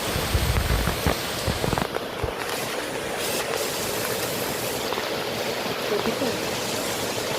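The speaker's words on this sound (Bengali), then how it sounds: "দেখলেন তো বাইরে ঝমঝম করে বৃষ্টি হচ্ছে" Heavy rain pours steadily outside a house, a dense continuous wash of falling water with a few louder knocks early on, heard from indoors.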